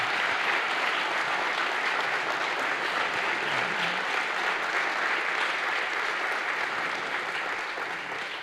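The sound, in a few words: church congregation applause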